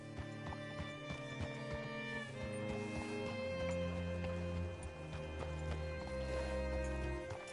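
Horse hooves clip-clopping in Red Dead Redemption 2, a rhythmic series of hoof strikes at a modest level, set under sustained music with low tones throughout.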